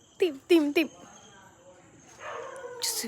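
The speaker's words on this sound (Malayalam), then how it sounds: "ഇപ്പുറത്തെ വീട്ടിൽ പട്ടി കിടന്നടിക്കുന്നത്" A dog next door gives three quick, sharp barks up close, then quiet background hum and a rustling scrape follow.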